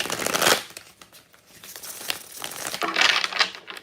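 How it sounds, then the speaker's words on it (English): Cards being shuffled up close, a papery riffling and crinkling that swells, fades and returns in bursts. "I just wanted to get these shuffled up a bit."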